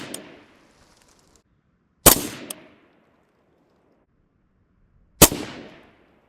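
An AR rifle fired three times at a 50-yard target, each shot a sharp, loud crack with a ringing decay, spaced about two to three seconds apart with silence between.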